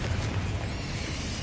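A Confringo fire spell bursts in a Harry Potter video game, a dense, rumbling explosion that fills the whole moment with a heavy low-end roar and no quiet gaps.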